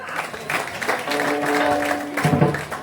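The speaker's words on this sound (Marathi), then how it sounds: "एकदा जोरदार टाळ्या." An audience at a bhajan performance bursts into loud, sustained clapping that swells and continues, with a held tone and some voices mixed underneath.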